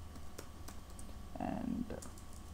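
Soft keyboard clicks while Angular code is typed, light and close, with a brief burst of voice-like sound in the middle over a steady low hum.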